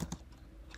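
A short burst of typing on a Mac computer keyboard, a few quick close key clicks in quiet room tone.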